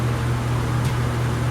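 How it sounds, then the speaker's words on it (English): Steady electric fan hum with a low tonal drone, running continuously and fairly loud with no talk over it, switched on at a jewelry-making bench before soldering. "Turning on the fan."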